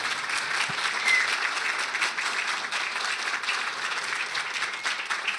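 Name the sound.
audience applause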